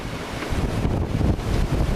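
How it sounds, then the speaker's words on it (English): Strong gust of roughly 30 mph at sea aboard a sailboat under autopilot, blasting across the microphone as loud, broadband buffeting roar with rushing wave noise beneath, steady and continuous. "Getting about a 30-mile-an-hour gust right now."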